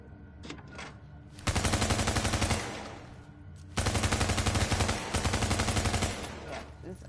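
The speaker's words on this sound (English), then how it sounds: "Let me try my new Bizon on it." A Bizon submachine gun fired on a shooting range in The Division, two long, loud, rapid automatic bursts of close, evenly spaced shots, separated by a brief pause and preceded by a couple of faint clicks.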